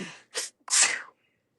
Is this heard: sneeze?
yes